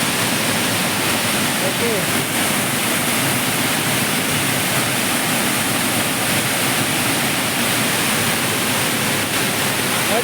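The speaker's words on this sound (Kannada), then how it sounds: "ನೋಡಿ ಫ್ರೆಂಡ್ಸ್, ಫಾಲ್ಸ್ ದೊಡ್ಡ ಫಾಲ್ಸ್ ಇದು." Mookana Mane waterfall roars as a steady, loud, close wash of falling water without pause, with a brief spoken word over it.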